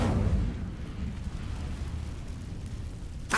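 A fiery Incendio spell from the Hogwarts Legacy video game flares up loud and close with a low roaring whoosh, then sustains a rumbling crackle for several seconds before a sharp burst at the end.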